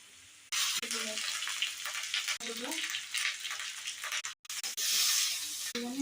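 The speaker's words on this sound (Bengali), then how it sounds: "পেঁয়াজটা একটু লাল লাল ভাজা হয়ে গেলে আদা রসুনের পেস্ট দিয়ে দেবো।" Chopped onions sizzle in hot oil with ginger-garlic paste for egg curry, a loud continuous hiss broken by brief pauses, with a voice briefly audible beneath.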